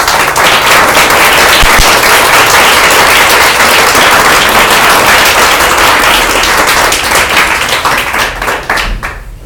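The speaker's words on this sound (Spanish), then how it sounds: "Dale un aplauso a Dios." A church congregation applauding, a loud dense burst of many hands clapping that holds steady for several seconds and then thins and fades toward the end.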